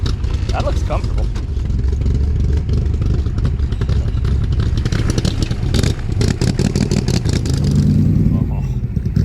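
Shelby Cobra engine heard from inside the car while riding, a loud continuous rumble with surges of revving and rattling clatter throughout, with passengers' voices occasionally over it.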